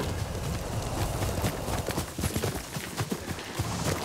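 Hoofbeats of the horse Kage galloping in Ghost of Tsushima, a rapid rhythmic clip-clop that stays close and loud for the whole stretch.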